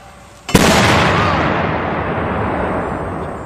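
A U.S. Army mortar fires with a single close, very loud boom, followed by a long rumbling decay that fills the rest of the moment.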